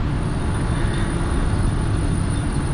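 A train in the Satisfactory factory-building game rumbles steadily throughout, a continuous low drone with a faint high whine on top and no voices.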